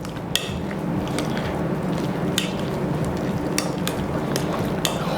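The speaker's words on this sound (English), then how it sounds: "I'm still using the potato masher" A potato masher working through mashed potatoes with butter and garlic in a bowl makes a steady squishy churning, with repeated sharp clicks and knocks against the bowl every second or so, close and continuous.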